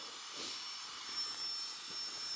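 An electric pump inflates a camping sleeping mat inside a tent during winter wild camping, giving a steady, faint whirring drone that holds evenly throughout.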